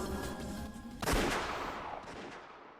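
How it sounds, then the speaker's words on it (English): A single loud gunshot effect from the Umineko visual novel bursts out about a second in, then decays into a long fading echo over a low background tone. "Gunfire."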